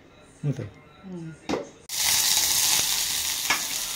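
Oil in a pan bursts into a loud, steady sizzle as the egg roll stuffing goes in, following a few brief clinks and handling sounds; the hiss continues evenly to the end.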